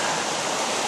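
A river flows under a footbridge in the UK countryside, giving a steady broadband rush of moving water, close and continuous, with no voices.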